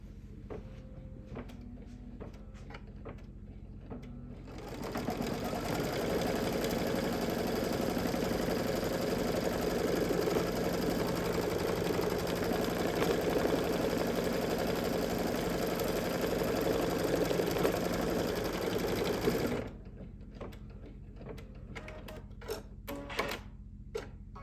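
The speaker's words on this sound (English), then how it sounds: "Pop it back on the machine, and once again stitch it down." A sewing machine stitches down fabric on a lip balm holder, running in one continuous, steady mechanical drone for about fifteen seconds, framed by light handling clicks and taps before and after.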